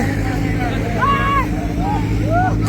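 A Sonalika tractor enters a trolley-pulling contest ground, its engine a steady low drone, with rising and falling whistle-like tones and crowd chatter over it.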